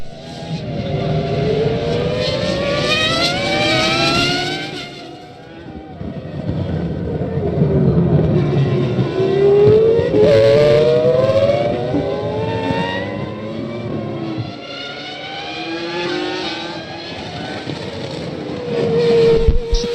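Formula 1 cars race at the 2001 Brazilian Grand Prix, Montoya's Williams and Schumacher's Ferrari, their high-pitched engines screaming and rising through the gears as they pass, loud and sustained with swelling and fading passes.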